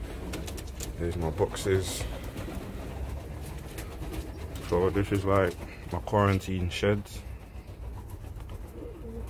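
Kittel pigeons coo in a quarantine shed, deep rolling coos repeating close by in several bursts, with a person talking over them throughout.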